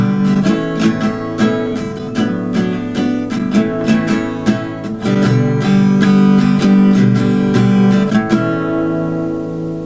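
Acoustic guitar strumming the pre-chorus chords of a song, steady rhythmic down-and-up strokes ringing loud and close, ending on a single sustained chord.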